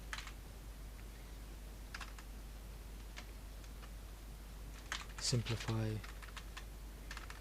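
Light, quick keystrokes on a computer keyboard while a math question is typed into Obsidian notes, scattered soft clicks throughout with a denser burst near the end, under a brief bit of speech.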